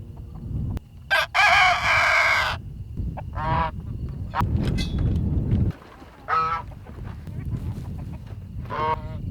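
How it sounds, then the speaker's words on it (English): Homestead hens make loud, harsh squawking calls in several bursts separated by short pauses, with scratchy rustling underneath. "Thirsty chickens."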